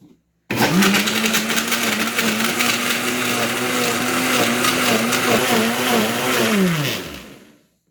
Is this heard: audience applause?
no